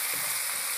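Green chilies sizzle in hot oil along with ginger and garlic, a steady bright frying hiss with faint stirring underneath, close and even throughout.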